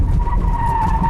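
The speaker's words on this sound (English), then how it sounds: "she stabs at the brake and locks up all the wheels" A car skidding as the driver stabs the brake and locks all the wheels, giving a sustained loud tire screech over engine rumble, short and close.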